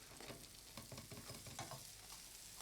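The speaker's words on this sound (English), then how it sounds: "The sizzles." Food browning in a pan for spaghetti bolognese gives off a continuous dense sizzle and crackle, close and steady, with faint stirring scrapes and no talk.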